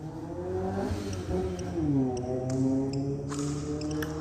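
A motorcycle engine outdoors drones and revs in the background of an indoor badminton game, rising and falling, fairly distant and steady.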